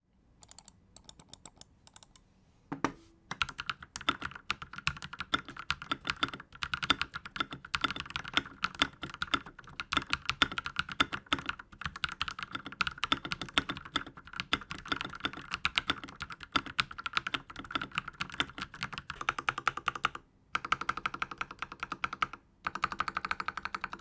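Continuous typing on a Royal Kludge R87 mechanical keyboard with linear switches, rapid, muffled clacky keystrokes in fast irregular bursts with a few brief pauses, close and clear with no talking.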